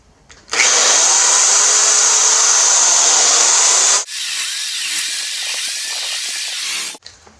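A power drill bores pilot holes into wooden legs for rustic wedding benches, in two close, sustained bursts: a harsh, loud grinding whir for a few seconds, then a slightly softer second run that stops abruptly.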